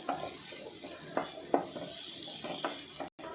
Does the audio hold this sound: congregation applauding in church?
no